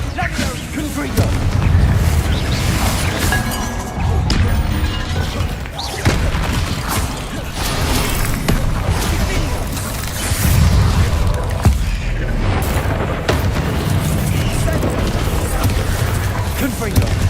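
A string of Confringo fire-spell blasts from the Hogwarts Legacy video game, loud booming and crashing impacts that keep coming over a constant rumbling game background, with speech mixed in.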